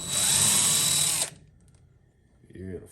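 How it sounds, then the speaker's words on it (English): A power drill whirs steadily for about a second while backing a bolt out of a pellet stove's auger motor, then cuts off, leaving quiet before a voice speaks. "You're gonna be slowly taking these bolts out one by one."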